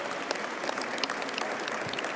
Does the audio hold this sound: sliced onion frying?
no